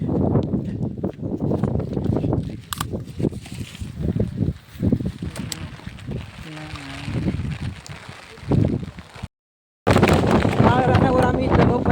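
Strong wind gusting outdoors during rain in the Konkan countryside near farmland, a continuous rough rumble broken by louder bursts, with a person talking over much of it and a brief dropout near the end.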